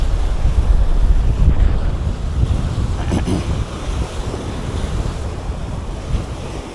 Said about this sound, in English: The sea get rougher right now.